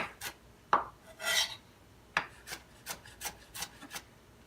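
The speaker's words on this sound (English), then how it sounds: "And I'm just pre-chopping these so they'll be ready to throw in the pan when the time comes." Tomatoes being chopped with a knife on a board for a keto breakfast: a dozen or so short taps and scraping strokes in an uneven rhythm, close and moderately quiet, with no talking.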